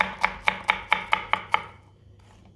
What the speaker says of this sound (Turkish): Bu yüzden biraz büyük doğruyorum.